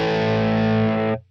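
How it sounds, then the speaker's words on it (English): Electric guitar through a Fender Princeton 10-inch speaker capture, a single sustained distorted chord ringing for about a second before cutting off sharply. "I'm just going to go ahead and say it's a Fender Princeton 10-inch speaker."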